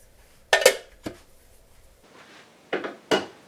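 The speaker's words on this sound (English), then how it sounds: "So we'll just kind of scoop some butter in there." Spoon scrapes and clinks against a pot while butter is scooped in for French onion soup, a few sharp metallic knocks in two short clusters with quiet gaps between, close by.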